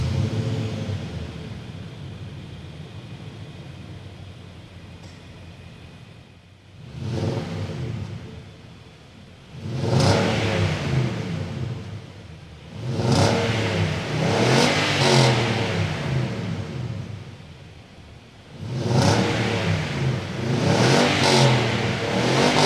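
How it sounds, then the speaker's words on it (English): A 2020 Nissan Titan PRO-4X pickup's V8 engine starts, then gets revved again and again, with deep, loud surges that rise and fall under a steady idle in between. "let's go ahead and fire up that V8 and hear how this thing sounds"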